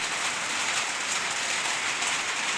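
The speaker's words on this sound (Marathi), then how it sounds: "काही भागांमध्ये हा असा गारपीट ही अशी गारपीट पाहायला मिळते, अवकाळी पाऊस पाहायला मिळतोय" Heavy unseasonal rain with hail in Maharashtra, a dense constant hiss of drops hammering a surface nearby, steady and loud with no voices.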